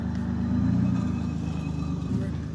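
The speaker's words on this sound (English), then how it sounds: "Oh, there's another car." A car drives past on a city street, giving a steady low engine rumble and road noise that stays fairly close and loud for the whole stretch.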